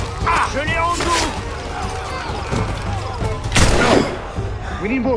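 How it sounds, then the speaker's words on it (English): Cannon fire in Assassin's Creed Rogue, several booming blasts and thuds scattered through a busy battle scene, with voices shouting in between. "We need more cannons."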